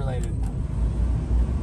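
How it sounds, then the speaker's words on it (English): A 1994 Ford Bronco truck engine idles steadily with a low rumble, close by, while people talk over it. "the truck's running fine"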